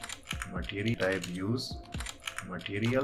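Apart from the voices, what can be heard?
typing on a computer keyboard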